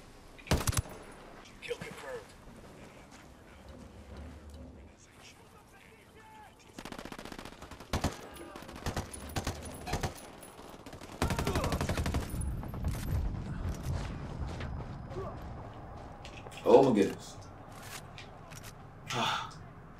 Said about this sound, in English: Just trying to find the people that's shooting at me.